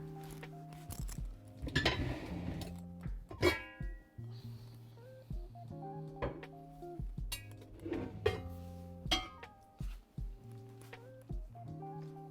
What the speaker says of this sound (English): I'm gonna get out the pot that we're gonna be frying in.